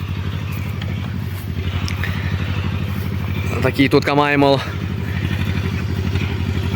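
A tractor raking hay chugs steadily nearby in a low rumbling drone, with someone speaking briefly over it partway through.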